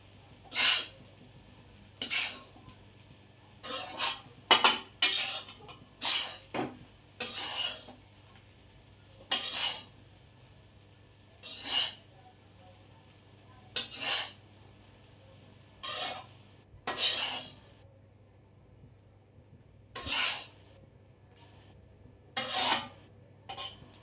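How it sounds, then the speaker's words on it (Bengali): Basmati fried rice being stirred and tossed in a pan with a metal utensil, giving repeated sharp scraping clinks at an irregular rhythm, close and fairly loud, over a low steady hum with no talking. "সব উপকরণ আমি ভালো করে ফ্রাইড রাইসের সাথে মিক্স করে নেব"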